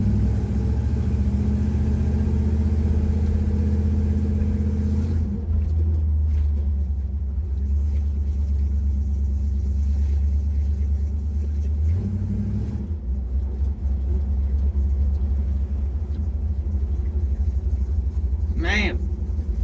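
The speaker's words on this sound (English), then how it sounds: "Man, I love driving this old truck." Old Chevrolet C10 pickup truck engine droning steadily while driving, a low continuous rumble that shifts in tone partway through, with a brief higher sound near the end.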